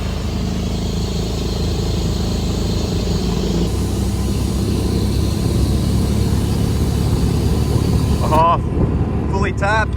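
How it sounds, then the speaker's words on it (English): A drag buggy making a no-prep hit at Lakeside gives a loud, sustained engine roar that holds steady, then ends in short sharp bursts near the close, with voices over it. "We're in the buggy with Chase and we're going to do a no prep hit at Lakeside."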